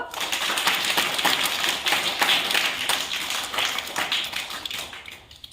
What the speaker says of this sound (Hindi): ताली बजाओ। ताली बजा दो।